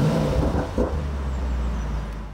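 A Mercedes-AMG GT 63 S engine starts up and rumbles loudly at close range, a deep steady idle with a brief surge of revs early on.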